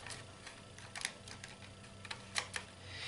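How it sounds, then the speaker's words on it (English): A Bachmann HO scale train with a pancake motor running on temporary track, giving faint, light irregular clicks and ticks over a low steady hum, quiet and close with no voices. "you're going to hear it making that famous clicking sound that those pancake motors make."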